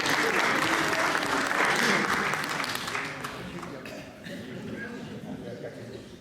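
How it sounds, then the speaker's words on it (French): An audience applauds at a Pentecost gathering, loud dense clapping that fades after a few seconds into lighter, scattered claps while voices murmur underneath. "Bravo pour lui, on lui fait un applaudit d'accord."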